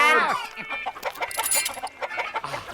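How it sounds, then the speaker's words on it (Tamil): Cartoon chickens clucking in a lively 3D kids' animation about a roadside dhaba, with a burst of close, busy clucks and squawks that continue in quick, uneven bursts, accompanied by light background effects. "எல்லாரும் சேர்ந்து அந்த கோழிகளை பிடிங்க பிடிங்க"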